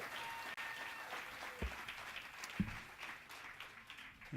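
Audience applause right after a live band finishes a song in a small studio, a steady wash of clapping throughout with a couple of louder thumps.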